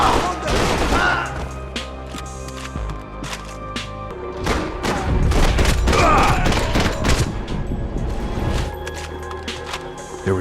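Gunfire rattles through a Max Payne 3 shootout in rapid bursts and single heavy shots, loud and close, with booming impacts and crashes layered over a low tense musical score.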